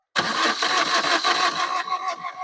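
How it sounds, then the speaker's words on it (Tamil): A 1.3 diesel Maruti Swift engine cranks without catching, a loud, close starter churn with a rapid, uneven pulsing rhythm that runs for about two seconds, then cuts off. "ஃபுல் கிராங்க் ஆகுதுங்க, பட் வெஹிக்கிள் வந்து ஸ்டார்ட் ஆக மாட்டேங்குது"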